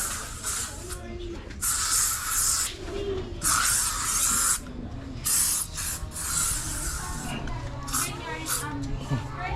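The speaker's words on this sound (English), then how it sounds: "I'm getting my spray up now." An aerosol spray can hisses in repeated bursts of a second or two while being sprayed on a child before a beach trip, loud and close, with people talking in the background throughout.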